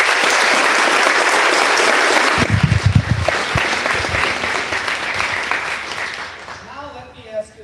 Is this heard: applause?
yes